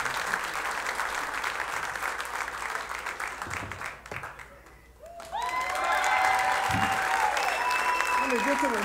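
Comedy show audience in Fort Wayne applauds a comedian, a dense wash of clapping that dips briefly, then resumes loudly under an amplified host's voice.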